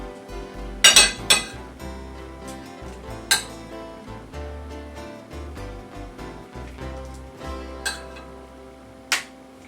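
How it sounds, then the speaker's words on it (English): Spoon clinking and scraping against a metal cookie sheet as homemade Italian meatballs are set out, a series of sharp irregular metallic taps over a low steady hum, with a few louder clanks. "So the next thing we'll do is put these out on the cookie sheet. I like to use something like a spoon."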